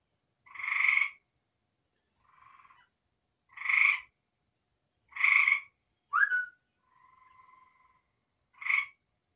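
A frog or bird gives about seven short, clear calls, spaced a second or two apart, with a few softer whistled notes between them against an otherwise quiet background.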